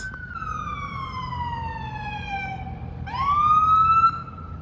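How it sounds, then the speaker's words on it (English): A siren wails with a long falling tone, then restarts and rises again, carrying over a steady low rumble of traffic. "Apologies for the siren in the background just now"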